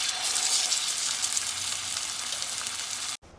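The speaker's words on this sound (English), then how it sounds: "with a nice hot pan, we're gonna sear the meat and brown them up on both sides" Lamb meat searing in a hot pan for stew, a loud, dense, continuous sizzle heard up close that cuts off abruptly just before the end.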